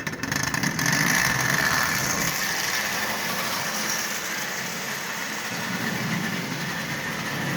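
A Marx Commodore Vanderbilt toy locomotive, converted from wind-up to electric, runs around its rails with a steady, close electric-motor whir and rattling wheel noise, continuous and without voices.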